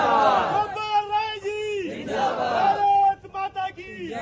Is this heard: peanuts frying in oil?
no